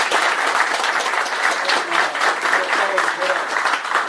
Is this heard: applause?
yes